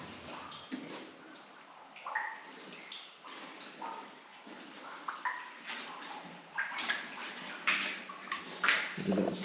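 Feet wading and sloshing through water inside a hollow mountain cave, soft irregular splashes and drips echoing faintly, growing slightly louder toward the end.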